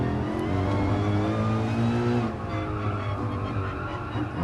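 A race car engine in a sim racing game revs loudly and steadily through the gears, a sustained whining drone that drops in pitch partway through as the car slows, with faint tire noise underneath.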